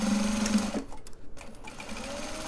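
A sewing machine stitches fabric, tacking down a seam, a fast steady mechanical hum and needle rattle for under a second before it stops, leaving quiet handling sounds and faint motor whirr.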